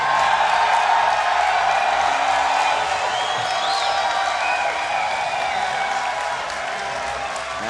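A live audience at PAX Seattle roaring and applauding loudly, a thick sustained wall of cheering and clapping with whoops that fades slightly toward the end.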